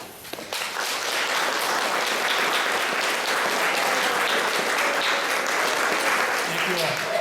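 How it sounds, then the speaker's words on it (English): A crowd applauds at a city council debate, sustained dense clapping that rises quickly and holds steady and loud, with a voice briefly audible at the start. "allow the rest of us to give you a round of applause."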